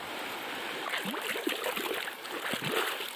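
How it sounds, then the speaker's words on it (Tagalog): A river stream flows along a riverbank, its water muddied from recent flooding, giving a steady close broadband wash with small bubbling gurgles and trickles throughout, no speech. "Nandito po ako ngayon sa tabing ilog."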